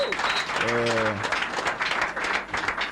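A studio audience at a Nigerian talk programme claps for a generator company in a brief, busy round of applause that continues throughout, with a voice calling out briefly over the clapping.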